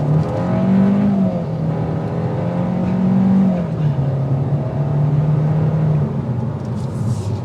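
A 2023 Kia K5 GT-line with a turbocharged engine accelerates steadily, its engine note rising through gears in loud, continuous drone heard from inside the car, with no voices.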